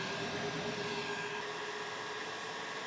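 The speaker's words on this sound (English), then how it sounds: "we got one heat gun full blast" A heat gun runs at full blast from a portable power station, giving a steady, fairly quiet whooshing blower hiss with a faint constant motor hum.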